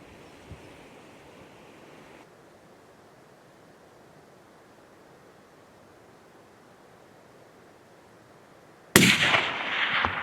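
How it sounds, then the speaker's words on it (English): Single sharp, loud rifle shot fired at a Himalayan bull tahr in South Westland, New Zealand, ringing out near the end after a long stretch of quiet, hissing wind. "Grant sets himself up to take a shot"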